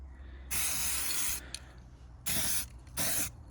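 Aerosol spray paint hissing onto steel Peugeot Expert van wheels for a light first coat, in three bursts: a long one over a second, a short one, then two shorter ones, close and loud with quiet pauses between.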